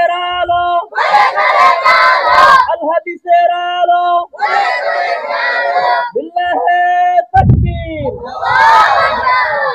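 A crowd at a religious political rally in Bangladesh shouts the takbir response. A lead voice calls out and the massed crowd roars back loudly in repeated chant-like bursts, alternating call and response.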